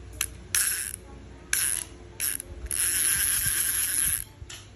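A small Ryobi mini fishing reel for shrimp and small fish is cranked close up, giving bright ratcheting whirs in short bursts followed by one longer steady spin, with no talk.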